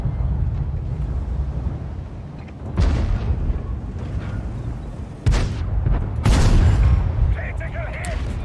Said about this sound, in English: I'm shooting coconuts, apparently